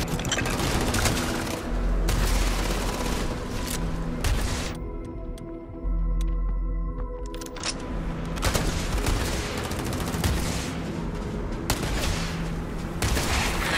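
Heavy, sustained gunfire in the space game Starfield: dense overlapping automatic shots and booms roar almost without pause, with a brief thinner stretch midway before the barrage resumes at full loudness.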